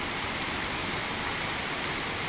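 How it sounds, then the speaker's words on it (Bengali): Rain falling steadily during a downpour, a dense continuous wash of hiss with no pauses, close and fairly loud, heard alone without any voices. "একদম বৃষ্টি পড়তেছে"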